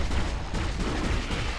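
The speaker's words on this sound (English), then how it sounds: "Shoot the freaking thing." Gunfire in the Dead Space video game, a dense, continuous burst of shots and rumbling blasts filling the short stretch at steady loudness with no talk.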